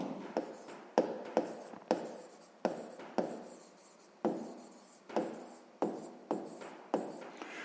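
A pen scratches across paper in short, separate strokes, about a dozen crisp scrapes in an uneven rhythm while numbers are worked out for a sixth-grade maths exercise. The sound is close and quiet, with no talk over it.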